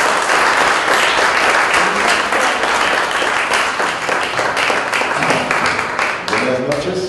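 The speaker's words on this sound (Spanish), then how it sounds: "Pues un aplauso" Loud, sustained applause from an audience at a science talk in a bar fills the room throughout, with a voice emerging faintly near the end.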